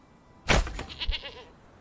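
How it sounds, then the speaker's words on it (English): Goats bleat in the medieval city-building video game Manor Lords: one short, wavering bleat rises sharply and fades within about a second, heard alone. "Goats!"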